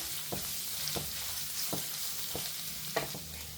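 Finely chopped garlic sizzles softly in a pan while a spoon scrapes through it in five or six evenly spaced stirring strokes over a constant frying hiss.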